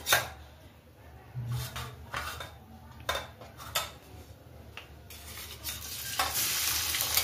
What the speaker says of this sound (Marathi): तर हे बघा, कांदा फ्राय होतोय